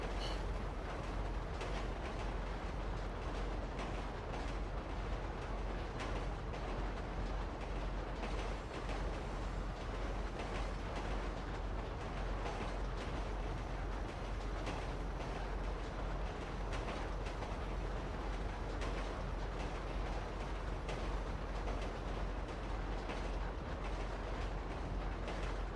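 A train rumbles along steadily in a GTA 5 roleplay game, a constant dense rolling rail noise with faint clatter lasting throughout at an even level, no voices.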